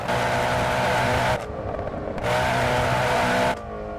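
A modded car engine in Assetto Corsa screams at high revs and hits the rev limiter, the loud roar cutting out twice in abrupt drops before surging back.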